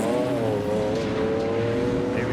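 A BMW M3 race car engine howls steadily at high revs on a track, a loud continuous harmonic drone close by, with faint talk underneath.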